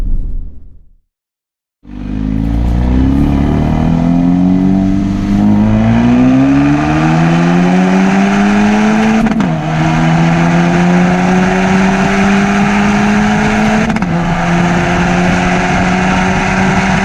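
A 350HP Ford Focus RS accelerating hard on a humid, rainy day, its engine note climbing steadily through two gear shifts, loud and close, after a brief silent pause at the start.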